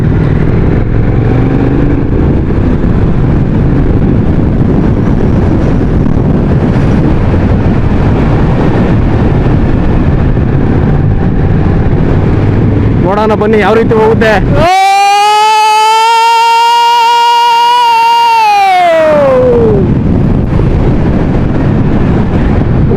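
A Triumph Speed Twin 1200 motorcycle is ridden on the road with a steady roar of engine and wind noise, then a strong, sustained engine tone that holds and falls away as it slows; someone speaks briefly over it.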